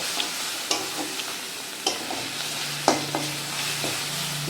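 Cumin powder and spices frying in hot oil in a kadai while making a Bengali katla fish kalia, a steady sizzle with a few sharp stirring scrapes scattered through, close and fairly quiet.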